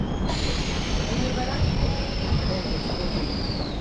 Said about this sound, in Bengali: চারটা চুয়ান্ন মিনিটে কিন্তু আমাদের ট্রেন ছাড়লো